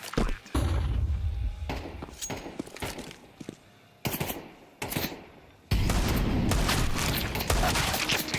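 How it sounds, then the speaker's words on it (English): Gunfire and a flashbang grenade detonating in Counter-Strike 2, with loud separate bursts and bangs broken by short silences, then a dense, ringing burst that runs to the end. "Deploying flashbang."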